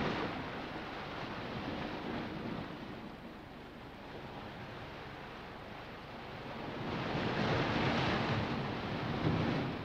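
Waves beat steadily against rocky shore, a continuous broadband wash of surf with wind, swelling louder toward the end, no voices.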